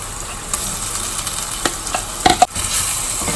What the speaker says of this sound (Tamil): உங்கள் வீட்லேயும் வெங்காயம் நல்லா வதக்கிக்கலாம்